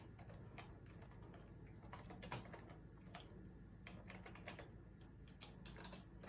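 Steady typing on a computer keyboard, quick irregular clicks and key taps running continuously at close range with no talking over them.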